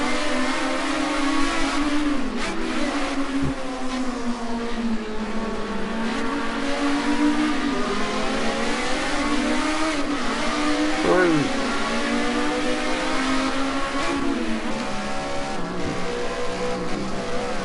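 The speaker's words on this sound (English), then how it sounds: "Ferrari feathering that throttle" A Ferrari race car at Watkins Glen in a Group A challenge race, its engine droning steadily as the driver feathers the throttle, pitch wavering up and down in small surges, with a commentator talking over it.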